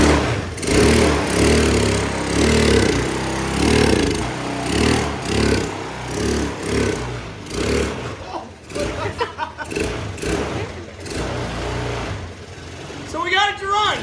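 The engine of a Honda Helix moped runs at a rough, pulsing idle, loud and close, with a person talking over it.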